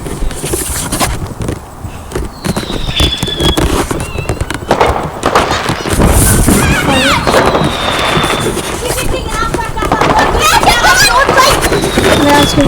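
Fireworks on bonfire night, a dense run of cracks, bangs and whistling rockets going off one after another at close and middle distance, loud throughout with people talking over them.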